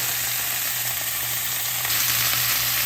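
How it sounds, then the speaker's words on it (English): Steady, loud sizzling of steak browning in a hot pan over a stove flame, a continuous frying hiss with a low burner hum underneath and no speech. "Here we're browning the steak over the noise of the flame here at the stove"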